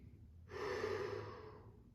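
During a folded-forward floor stretch, one deep, close breath swells up after a quiet start, then trails off softly with no talking.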